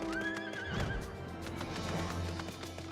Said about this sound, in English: my horse is coming out